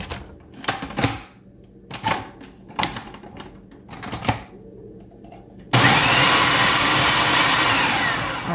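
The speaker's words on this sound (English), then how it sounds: "now I'm getting ready to pulse my cauliflower so I can do my rice" Cauliflower pulsed into rice-sized bits in a food processor: several short sharp chopping bursts with pauses between, then a longer continuous loud whir of the motor near the end, with no talking.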